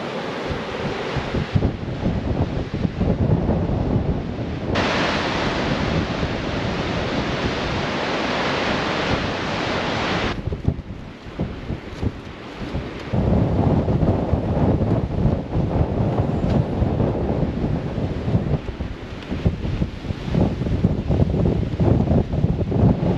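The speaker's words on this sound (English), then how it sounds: "That was a bit windy." Strong wind buffets the microphone in loud, roaring gusts, with broadband rushing noise that surges and eases throughout, no voices.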